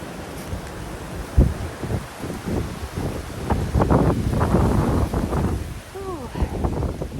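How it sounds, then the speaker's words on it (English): Strong wind gusts buffet the microphone outdoors on a sunny Florida evening, roaring and rising and falling, with a loud blast early on and a few brief bird-like chirps near the end. "Woo, the wind is whipping."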